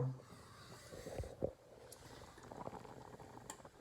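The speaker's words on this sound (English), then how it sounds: "That's the actual spaghetti boiling." Spaghetti boiling in a pot of water on a home stove gives a soft, steady bubbling and gurgling, quiet and close, with a few brief louder splashes and no talk.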